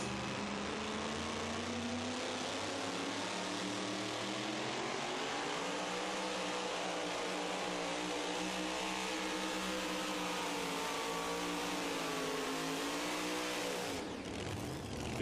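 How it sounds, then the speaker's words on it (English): The Midnight Chaos pulling truck, driven by Misty Nelson, roars down the track at a Pro Pulling League event, a loud sustained engine howl whose pitch rises and wavers through the pull before cutting off sharply near the end. "Misty Nelson, doing the driving here with that beautiful truck called Midnight Chaos"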